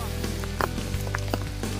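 Heavy rain pours steadily during a Thai mushroom-gathering outing, a constant close hiss with scattered drop impacts and a low hum beneath.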